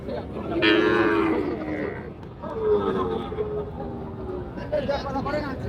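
Cattle moo loudly and close by, two long drawn-out calls from bull calves, over the murmur of a crowd chattering at a busy livestock market.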